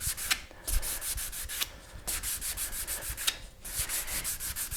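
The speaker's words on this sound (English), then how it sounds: "You don't want to be grinding the leading edge this way." Sanding along the leading edge of an epoxy drone rotor blade makes close, rhythmic scratchy rubbing strokes, a steady back-and-forth series with brief pauses, no talking.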